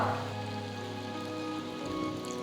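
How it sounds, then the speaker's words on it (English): Water poured into a simmering potato and onion curry for poori, a steady splashing pour with a soft wash of liquid hiss over a low kitchen hum, close and continuous throughout. "So next I'm going to add about 1 cup of water."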